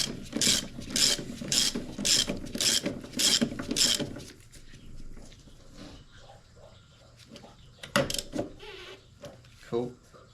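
Ratchet tightening a control arm bolt on a 1994 Acura Integra, a quick run of about eight close, loud clicking pulls followed by scattered quieter clanks and movement, with a voice speaking briefly.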